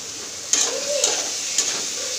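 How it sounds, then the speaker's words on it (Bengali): Pieces of rohu fish fry with spices in a pan, making a steady low sizzle broken by a few sharp spatula clicks and scrapes, close by and without voices. "তো দেখো আমি এখন ভাজা করে নিচ্ছি"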